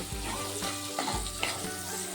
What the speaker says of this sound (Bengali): মশলাটা কিছুটা ভাজা হয়ে গেছে